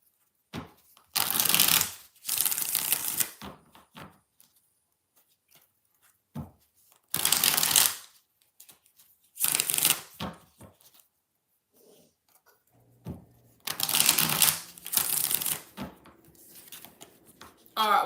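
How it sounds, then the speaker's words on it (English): Repeated bursts of tarot and oracle card shuffling, each a crisp riffle lasting a second or two, separated by pauses with occasional faint voices and small handling noises. "All right, one more shuffle."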